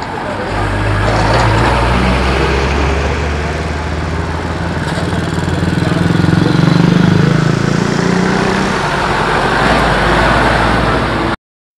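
A two-cylinder two-stroke 600 cc oldtimer vehicle, the IFA G5 making 26 PS, runs steadily nearby at an outdoor vintage car meet, its loud continuous engine drone holding for about eleven seconds before cutting off.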